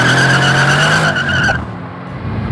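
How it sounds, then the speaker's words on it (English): Mercedes-AMG C63 launches hard in race mode with traction control off, its loud engine roar rising under squealing tires before the noise suddenly drops away, heard close with no talking. "The most ludicrous drive mode, traction control off."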